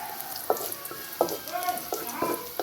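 Onion and garlic frying over charcoal for bitter melon with eggs, a soft steady sizzle with scraping stir strokes roughly every half second to second, close and fairly quiet, no talking.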